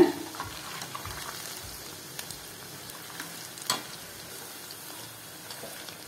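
Rice flour bonda frying in hot oil, a steady soft sizzle with a few light scrapes and taps as the pieces are turned over, no talk.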